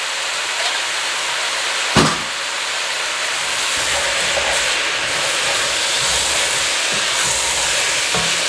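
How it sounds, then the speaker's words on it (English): Canned diced tomatoes with their juice, 14.5 ounces, go into a hot Cajun jambalaya pot, a soft thump followed by a loud, steady sizzling hiss that carries on without talk. "we want to add our diced tomato, juice and all"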